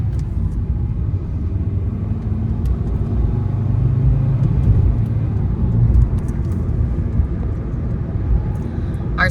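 A car's engine and road rumble drone steadily from inside while driving on a long road trip, a continuous low hum with no speech and a brief sharper noise near the end.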